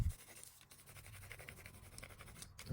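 A burnishing tool rubs over transfer tape on a vinyl design in quiet, close, repeated scratchy strokes with a soft low rumble underneath.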